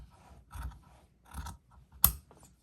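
Scissors snipping through craft material toward a marked dot while making a handyman gnome: three short crisp cuts spaced about seven tenths of a second apart, close and quiet, the last one sharpest.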